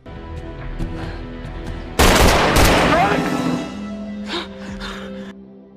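A sudden loud burst of gunfire from a Prison Break scene cuts in, with a rattle of several rapid shots, then fades into a noisy tail and a few fainter sharp bangs.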